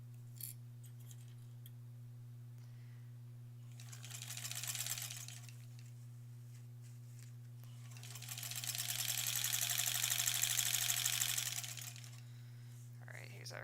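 Sewing machine stitching a quilt block seam, two rapid mechanical runs of stitching, one short and one longer, over a steady low hum, with someone talking quietly around them.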